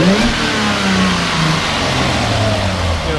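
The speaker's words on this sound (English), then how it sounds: "Go ahead and rev it up a little bit." Revving supercharged engine of a 2016 Jaguar F-Type with a six-speed, heard up close as a loud, steady rumble with rising and falling pitch through several blips of the throttle.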